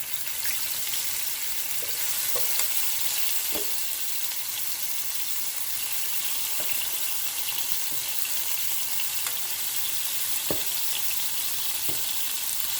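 Shrimp and salmon sizzling in a very hot pan: a loud, dense, unbroken hiss that holds steady throughout, with a few faint clicks from utensils scattered through it.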